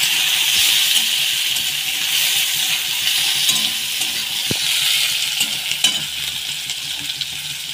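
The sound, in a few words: chopped onion frying in oil with bay leaf and chilli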